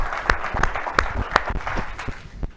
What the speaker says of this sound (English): I just want to applaud you again for that amazing